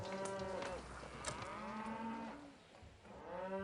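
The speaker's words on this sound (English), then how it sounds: "You'll forget you're living right next to a cattle farm." Cattle lowing in the city-building game Pharaoh, several drawn-out moos overlapping one after another at moderate loudness over a steady ambient game backdrop, with no talking.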